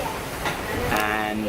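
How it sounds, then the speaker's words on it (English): A train rumbles past in New Orleans or Memphis, a steady close roar with a hiss and faint clatter, heard briefly as a voice begins to speak. "That's the train going by."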